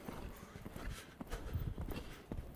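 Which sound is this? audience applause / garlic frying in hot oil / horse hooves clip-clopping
horse hooves clip-clopping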